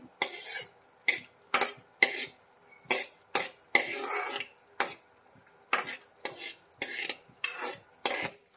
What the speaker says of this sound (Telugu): ఇక్కడేమో జీడిపప్పులు వేయించుతున్నానండి